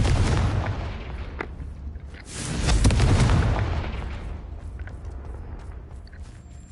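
A Confringo blast spell detonates in a wizarding video game, a loud booming burst with a second heavier blast around the middle, then a rumbling decay.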